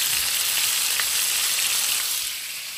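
Fish frying in oil for qalieh mahi, a bright close sizzle that stays steady and then eases off slightly near the end, without any talk.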